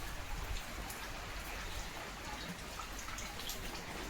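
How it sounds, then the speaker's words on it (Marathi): Steady rain falls and patters on surfaces outdoors, a constant even hiss of drops with no break and no talking. "पाऊस येतोय"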